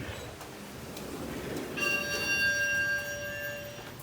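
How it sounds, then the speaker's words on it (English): A lower-pitched chime rings out once and lingers as a sustained, slowly fading tone from a 2015 Schindler 3300 elevator at 1400 Boulevard of the Arts in Sarasota, Florida, over steady wind noise. "It's a lower pitch chime."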